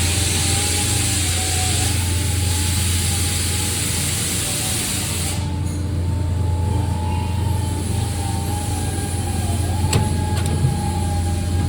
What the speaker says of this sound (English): So this is our deburring machine,